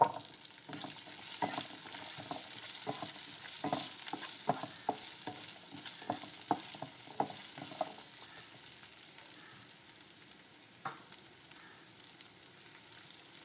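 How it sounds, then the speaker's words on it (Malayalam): Two handfuls of chopped small onions sauté in a pan for Kerala chicken thoran, with a steady sizzle under a repeated rhythmic scrape and clack of stirring. No voices are heard. "ഇനി നമുക്കതിൽ ഒരു 2 കൈപ്പിടി ചെറിയ ഉള്ളി ഇതുപോലെ നുറുക്കിയെടുത്തത് ചേർത്ത് കൊടുക്കാം"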